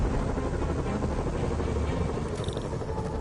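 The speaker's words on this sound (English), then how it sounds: "Bet I can use those helicopters to swing." Helicopters flying over the city in Marvel's Spider-Man game, a dense, loud, continuous rotor drone with a low throbbing rumble that fills the whole stretch without pause or voices.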